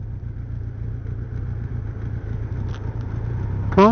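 A motorbike engine runs at a steady low idle, a close continuous rumble that holds evenly before a short warbling tone cuts in at the very end.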